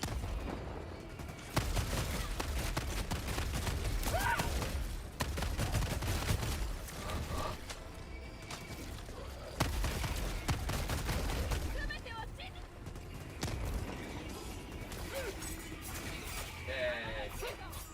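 Shotgun fire against bugs in a video game, dense repeated blasts and crashing combat noise running continuously with layered explosions and clatter, loud throughout.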